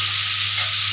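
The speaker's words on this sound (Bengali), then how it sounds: "জিরে আর আদা বাটা দিয়ে মশলাটা ভালো করে কষবো" Masala with cumin and ginger paste frying in a pan, giving a steady, even sizzle that stays loud and constant with only a slight swell partway through, and no voices.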